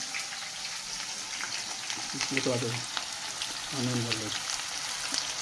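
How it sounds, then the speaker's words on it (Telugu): Onions dropped into hot oil that already holds dried red chillies, for a chicken sukka, giving a soft background sizzle with two brief louder bursts of frying and stirring, fairly faint overall. "ఇప్పుడు ఆయిల్ బాగా హీట్ అయిపోయింది కదా ఇంకా ఆనియన్ వేసేసుకుంటాం"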